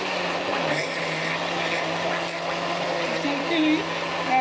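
An electric grinder whirs continuously as flour is added little by little to a fruit cake mixture, a steady loud motor drone throughout with no pauses.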